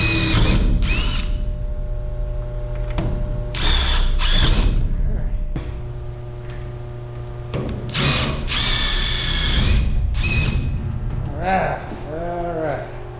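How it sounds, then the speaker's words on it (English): Bursts of a power drill whirring and grinding in short runs as it drills out rivets on an aircraft aileron, close by, with mechanical rattling and a voice speaking between the bursts. "get on my drill."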